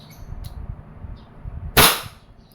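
A single loud WG 708 revolver shot cracks out sharply after a stretch of low rumbling background, its tail decaying quickly.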